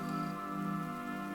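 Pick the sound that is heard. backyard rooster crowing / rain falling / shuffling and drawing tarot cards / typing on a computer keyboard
rain falling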